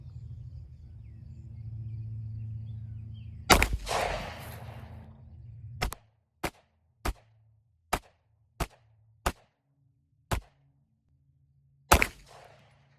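Pistol shots from a 30 Super Carry handgun fired at a steel target 20 yards away at an outdoor range: one loud report followed by a steady run of seven sharp, evenly spaced cracks over a low background rumble.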